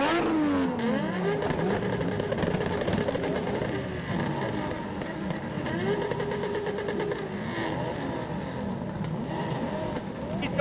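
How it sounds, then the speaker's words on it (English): Several drift cars at a British Drift Championship pro event starting up and revving together, a dense, loud wall of engine roar with rising and falling revs and no break. "Start your engines and make some noise!"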